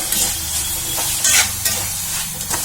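Tomatoes and chillies cook with softened onions in a pan, a close, loud sizzle with brisk stirring scrapes and spatters throughout the short stretch.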